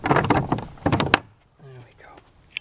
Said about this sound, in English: Let's have the lovely sound of this door.